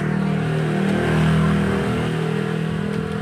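A motor vehicle engine drones steadily nearby and swells as it passes, loud and continuous, with no talk.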